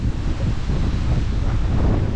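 Strong wind buffets the microphone outdoors on a farm, making a loud, constant low rumble that stays steady for the whole stretch with no other clear sound.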